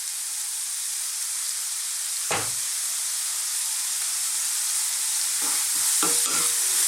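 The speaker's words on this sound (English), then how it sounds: "let's just cook these on a high heat for about just 2 to 3 minutes" Bell peppers stir-frying on high heat, seasoned with dried marjoram and salt, give a steady close hiss and sizzle, broken by a few brief stirring knocks and clatters near the start and end.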